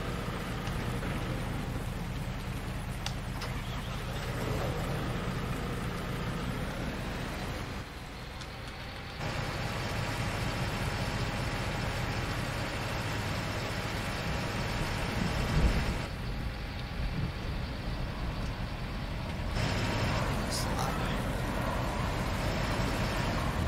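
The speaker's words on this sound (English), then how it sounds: "I have to get the skid steer up to plow." A skid steer engine runs steadily outdoors for snow plowing, a continuous broadband rumble and drone that shifts in level a couple of times, heard alone without talk.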